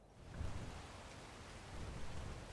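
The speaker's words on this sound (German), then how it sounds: "Jetzt regnet es auch noch." Steady rain hisses across the whole stretch in the video game ARK, a dense even wash that swells slightly at the start and again near the end, with no voices over it.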